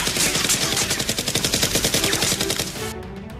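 Rapid toy Nerf gun fire in a rhythmic burst of quick pulses that holds for nearly three seconds and then gives way to a few faint clicks, loud and close.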